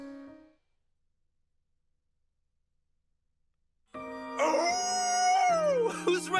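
A drawn-out, wavering howl in Fire Emblem Engage, apparently voiced by a character, rising and sliding in pitch. It bursts in loud and close after several seconds of near silence and carries on to the end.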